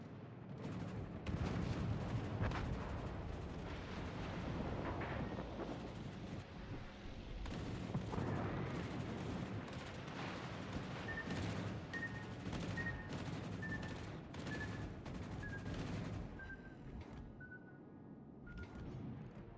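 Naval artillery and gunfire in a fleet battle game, scattered booming shots and rumbling blasts at moderate level, with a repeating faint beeping tone in the second half.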